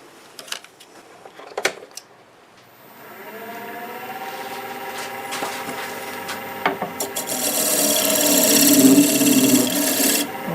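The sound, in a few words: wood turning lathe scraper cutting wild cherry wood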